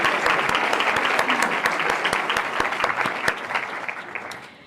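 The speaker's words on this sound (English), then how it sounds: "One last round of applause." A final round of audience applause at a school board meeting, crisp individual claps standing out within steady clapping that tapers off over about five seconds.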